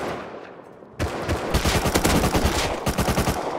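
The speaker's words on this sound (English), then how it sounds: "Oh, that's his turret." Turret in the survival game Rust fires a rapid burst of automatic shots that starts abruptly after a second of quieter ambience and continues as a close, loud, steady rattle with no talking.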